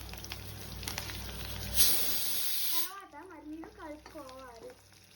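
Dry red chillies, curry leaves and asafoetida hit hot oil with a loud burst of hissing sizzle for about a second, fading back under a voice talking over the settling crackle.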